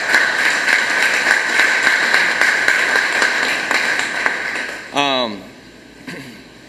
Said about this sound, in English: I just ask one more round of applause for our grounds crew and facilities guys